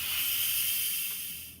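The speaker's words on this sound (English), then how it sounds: "I'm just going to let it go ahead and vent." An Instant Pot electric pressure cooker vents steam to release pressure after cooking honey garlic chicken, a loud, steady, close hiss that holds on and then begins to fade toward the end.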